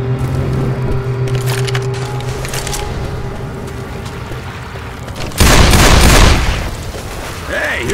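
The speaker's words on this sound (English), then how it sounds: "Grenade!" A grenade detonates in Left 4 Dead 2, one heavy, booming blast after a stretch of steady background din and scattered noise, loud and close, with a fading rumble afterward.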